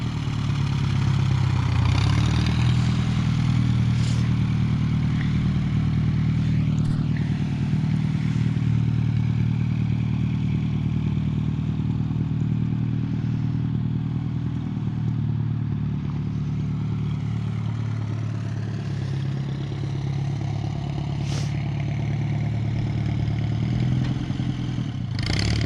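Engine of a cheap tractor running in third gear, a loud, steady low chugging rumble with a rattling clatter that holds throughout, close by and without voices.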